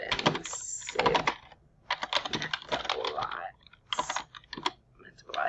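Code gets typed on a computer keyboard in quick clustered bursts of key clicks with short pauses, close and clear.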